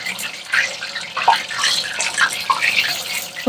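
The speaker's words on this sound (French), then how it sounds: "faites attention, ça éclabousse pour ne pas vous brûler" Fish fillets frying in hot oil for fish and chips, a busy crackling sizzle with scattered sharp pops of splattering oil, steady and close throughout.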